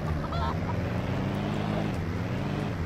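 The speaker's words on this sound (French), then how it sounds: "Oh là là, le moteur!" The Chevalier Supernova car in Just Cause revs its engine, a steady loud low rumble that carries on through the whole moment with no break.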